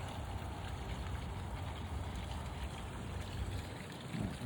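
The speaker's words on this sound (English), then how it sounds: "you do have a nice little waterfall feature coming from that hot tub." Water from a hot tub's small waterfall feature splashing steadily outdoors, a constant soft rushing wash with no break, fairly faint and distant.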